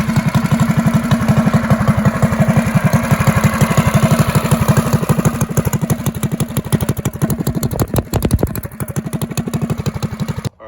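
A Predator 212 small engine fitted with a drag pipe runs close by, a loud, steady rapid-fire exhaust pulse throughout, with the revs dipping and picking up briefly near the end before cutting off.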